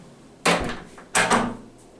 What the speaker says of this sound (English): Go ahead and shut the door.